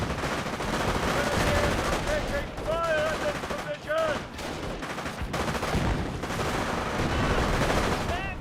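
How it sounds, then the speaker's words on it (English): In Company of Heroes, mortar rounds and gunfire crack and boom across a battlefield, striking a hedge, with dense overlapping shots and explosions under steady commentary talk. "I think the mortar is hitting the hedge in front of him"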